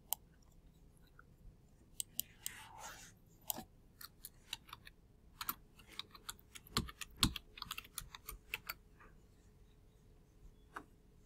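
A username and password are typed on a computer keyboard in a quiet room, heard as soft, irregular bursts of close keystroke clicks with short pauses between them.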